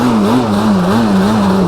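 A quad's engine revs during a powerslide, a loud, continuous buzzing drone whose pitch wavers up and down as the throttle is worked, close and with no voices over it.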